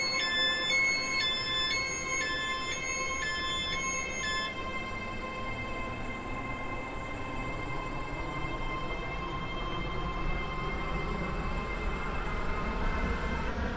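A Roblox Stepford Express train runs in the video game, a steady rumbling drone with a chiming electronic tone sequence at the start, continuous and fairly loud with no talking.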